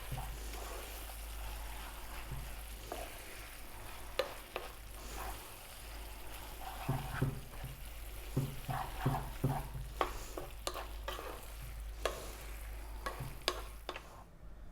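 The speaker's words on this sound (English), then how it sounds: "I'm going to work this in till we get a nice sauce all over the spaghetti" Creamy bacon spaghetti is stirred and tossed in a pan, giving soft repeated scrapes and clicks over a low, steady sizzle, close and fairly quiet without talk.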